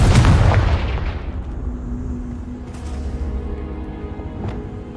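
A fiery Confringo spell explodes in Hogwarts Legacy, a heavy booming blast that rolls off into a rumbling tail, followed by fainter crackling impacts in the game's ambience.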